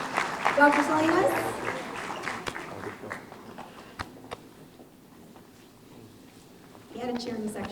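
An audience at a press conference claps and cheers in a burst of applause that fades out over a few seconds, followed by quieter scattered sounds and a voice starting to speak.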